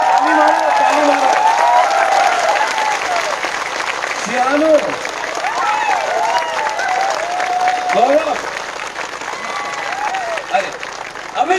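A crowd at a political rally in Santirbazar claps in a continuous, dense round of applause lasting several seconds, with a voice speaking loudly over it.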